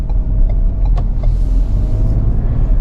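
A 2024 Ford Ranger XLT 4x4 pickup's 2.7-liter V6 rumbles and pulls away, a low steady drone building with road noise inside the cab.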